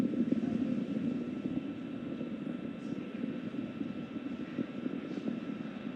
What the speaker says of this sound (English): that single Merlin vacuum engine on the second stage will ignite and continue to carry Crew 9 to orbit